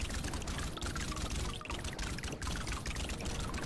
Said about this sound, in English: Time to drink water.